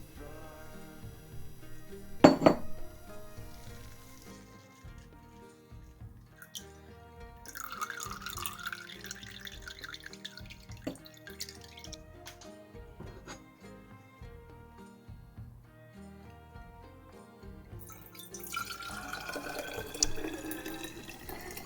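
Raspberry kombucha being strained and poured into a container, a quiet trickle and drip of liquid with light clinks, close and fairly faint throughout.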